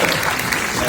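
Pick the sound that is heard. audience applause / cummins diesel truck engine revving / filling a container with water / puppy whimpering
audience applause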